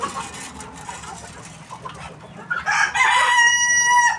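Chickens and a rooster on a farm cluck steadily and close by, then a loud rooster crow rises over the clucking near the end.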